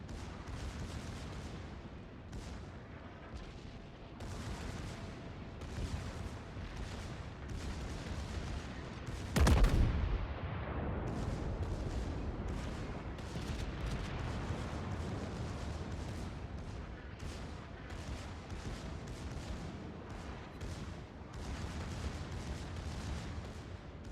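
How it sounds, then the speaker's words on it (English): Secondary guns of the German battleship König Albert fire in the World of Warships video game: a dense, fairly quiet stream of rapid booming shots and rumble, with one heavier blast standing out partway through. "And just look at all those secondaries fly."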